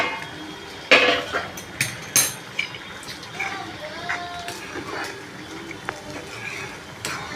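A metal pot lid lifted off a pan of colocasia curry on the stove, giving a few sharp clanks and scrapes, then softer stirring clinks and faint bubbling under light background noise.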